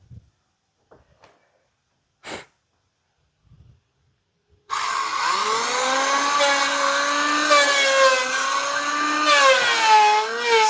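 A carpenter works a board with a power planer, the motor starting abruptly after a few quiet knocks and then running as a loud, steady whine with shifting pitch as the cutter bites into the wood.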